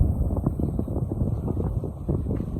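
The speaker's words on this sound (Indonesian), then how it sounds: "Jadi di sini kan banyak anginnya nih, anginnya kencang." Strong wind buffets the microphone in steady, loud low rumbling gusts while cycling through a teak forest on a long ride, with no talking.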